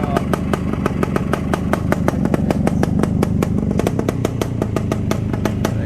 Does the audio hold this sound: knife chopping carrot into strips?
no